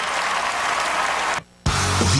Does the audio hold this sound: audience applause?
yes